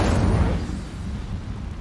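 An Incendio fire spell blasting in the game Hogwarts Legacy: one loud, booming burst at the start that rolls off into a rumbling tail, with no one speaking.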